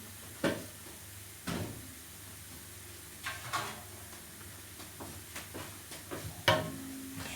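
Cutting board being fetched in a home kitchen while making kısır, with a few scattered knocks and clatters of wood against counter and cupboard, mid-distance and fairly quiet.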